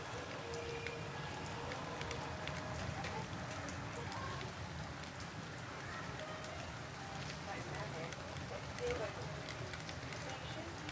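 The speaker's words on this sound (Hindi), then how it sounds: "ये देखिए अगर आपको बारिश नज़र आ रही है तो" Steady rain patters continuously in the background, with a person talking over it.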